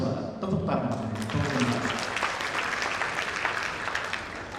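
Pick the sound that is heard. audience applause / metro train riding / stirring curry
audience applause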